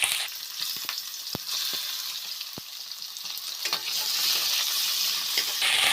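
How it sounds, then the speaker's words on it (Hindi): Chicken fries in two tablespoons of oil for a chicken korma, giving a steady close sizzle with occasional sharp pops and stirring clicks, growing slightly louder toward the end. "2 टेबल स्पून ऑयल लिया है और हम अपने चिकन को कर लेंगे फ्राई"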